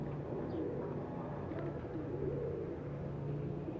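Pigeons cooing, including Fransi and Shah Parwaz breeder pigeons kept at a loft, with soft, low, steady throaty calls that repeat under a faint background hum, and no talk.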